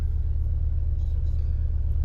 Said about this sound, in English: Back in Alan's Renault Trafic